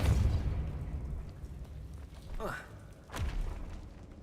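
The Depulso force spell is cast in Hogwarts Legacy, a rising whooshing burst followed by a sharp, booming thud over low background rumble.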